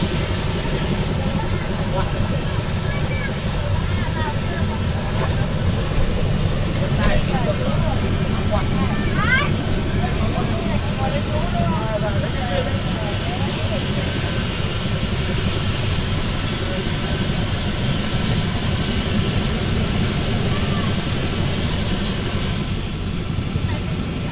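Helicopter flying over Côn Sơn island, a steady loud rotor and engine drone filling the whole stretch beneath people talking in the cabin.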